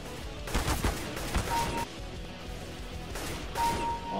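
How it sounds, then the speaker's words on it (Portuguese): Gunfire in a PC video game heard in short rapid bursts, a cluster of shots early on, another near the middle and a final burst toward the end, loud and sharp against quieter game ambience. "Tomando tiro e nem olha pra trás."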